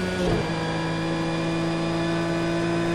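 Porsche 911 GT3 R racing engine in Project Cars 2 with a damaged, failing motor, giving a steady droning hum with a brief rougher burst near the start, loud and alone.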